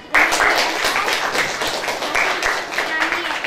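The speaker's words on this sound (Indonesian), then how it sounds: "Iya, tepuk tangan." A classroom of students claps together in a loud, sustained burst of applause that starts suddenly and holds steady, with voices mixed into the clapping.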